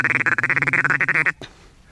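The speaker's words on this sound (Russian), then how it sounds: "Утка, в принципе, есть" Ducks on a hunt give a rapid, loud run of nasal quacks in a steady rhythm, close by, then stop abruptly, leaving quiet outdoor ambience.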